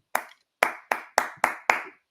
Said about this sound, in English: I'm going to clap a song.